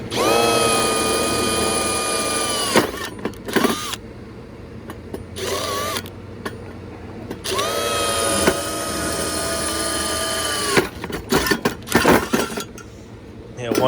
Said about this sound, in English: I'm gonna drill 2 holes in here for the drill screws.